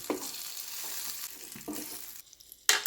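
Brinjal pieces sizzle steadily in hot coconut oil, a close, continuous frying hiss that briefly drops away, then surges back loudly near the end.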